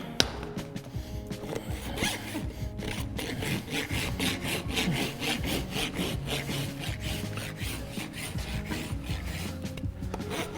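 A hand rasp files around the edge of a horse's bare hoof during a barefoot trim, producing close, rhythmic scraping strokes that repeat steadily without pause, with no talking.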